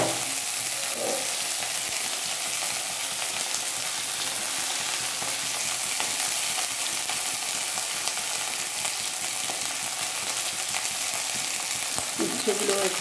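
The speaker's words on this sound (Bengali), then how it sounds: "উচ্ছেগুলো একটু লাল করে ভেজে নেব" Bitter gourd pieces fry in hot oil in a wok with a loud, continuous crackling sizzle and occasional stirring scrapes throughout.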